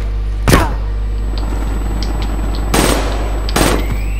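Loud bursts of rapid gunfire from a first-person shooter video game, Black Ops 3, come as three separate short volleys over a steady low background hum, with no speech.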